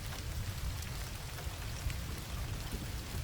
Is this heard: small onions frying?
no